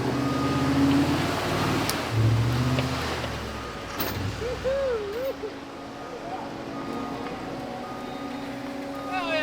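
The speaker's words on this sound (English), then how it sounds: "Let's get this truck out the ditch." A truck engine revs hard while trying to pull out of a ditch on an Iowa farm, a loud, continuous low drone that swells and surges, with excited voices shouting over it.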